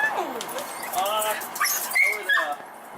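A puppy whimpers, yips and gives small high barks in a quick run of close, excited squeals, with people talking around it.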